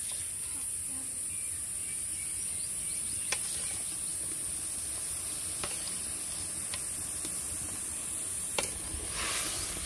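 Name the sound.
okra added to simmering broth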